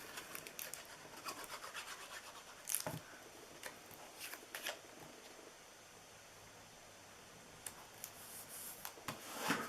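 Scissors cutting the bottom off a paper snow hat treat box, a few scattered soft snips and scraping rubs heard up close at low volume, with no voices.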